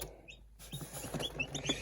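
Soft peeping of young chicks mixed with low hen clucks, close and quiet, in short scattered bursts.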